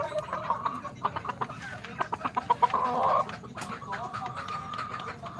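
Pet chickens cluck close by in a run of short, repeated clucks and squawks, with some people talking in the background.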